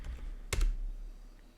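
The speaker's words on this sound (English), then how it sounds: "my typing is really bad today" Short burst of keystrokes on a computer keyboard while entering Kubernetes commands on a Windows 10 PC, a quick cluster of clicks around the middle with soft background hiss.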